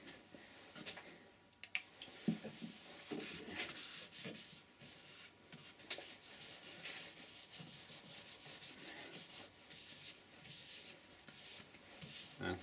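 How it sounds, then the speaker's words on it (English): A cloth rubs shellac finish onto a spinning turned wood piece on a lathe, a soft continuous swishing with light scuffs, faint and close, with no talk. "So now we're going to put some shellac on."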